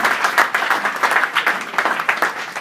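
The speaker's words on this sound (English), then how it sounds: "big round of applause for Tony Booth and Lynn" Audience members at an event clap together, a dense rhythmic patter of hands that continues steadily for a few seconds without talk.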